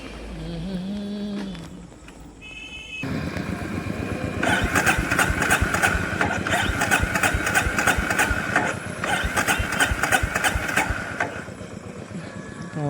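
A Honda CB350RS motorcycle engine cranks, then fires up into a steady, loud idle with a rapid mechanical pulse, held nearby for several seconds before easing slightly.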